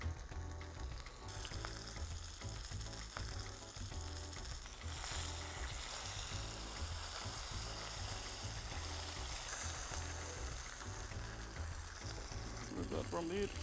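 Salmon fillet frying skin side down in a hot pan for a quick teriyaki dish, a loud, steady sizzle and crackle running throughout with faint spatter bursts, close up.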